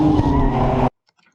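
A drifting car spins out from too much angle, its engine roaring and tires skidding loudly and continuously for under a second before cutting off abruptly to silence.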